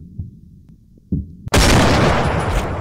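A sniper rifle fires in the hunting game Hunting Sniper, a single abrupt loud blast after a few dull low thumps, then a sustained roaring tail that fills the rest of the moment.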